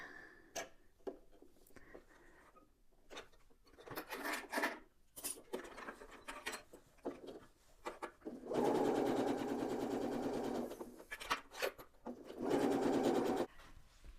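A sewing machine stitching a padded fabric Christmas tree decoration, running in short bursts and then two sustained whirring runs, fairly quiet and close, with faint handling noises between stitches.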